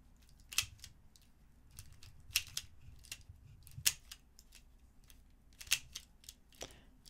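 Crisp plastic clicks and snaps come from a MoYu WeiLong maglev Pyraminx being turned, arriving in uneven bursts of sharp close-up turns over a quiet background, with no speech.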